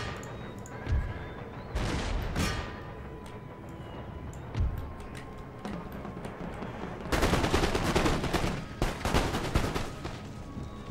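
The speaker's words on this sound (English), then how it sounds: "To engage in a gunfight" Musket volleys ring out across an Empire: Total War battlefield, with rolling bursts of crackling gunfire, an opening barrage, scattered shots, then a dense sustained fusillade, loud and without voices.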